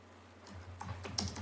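Brief burst of typing on a computer keyboard during a natural resources committee meeting, a few quick key clicks that start faintly and grow a little louder toward the end.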